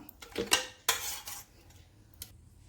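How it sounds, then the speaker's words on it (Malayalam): A few hard bits drop into a mixer grinder jar for a breakfast smoothie: two or three quick clattering clinks, then a faint lone tap in a quiet room. "ഇനി നമുക്ക് ഓരോന്നായിട്ട് മിക്സിയിൽ ജാറിലേക്ക് ഇടാം."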